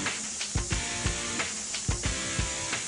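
Aeroseal aerosol sealant forced under pressure into a home's ductwork: a steady close hiss of air and spray runs throughout, with repeated low thumps and knocks in an irregular rhythm, and no talking.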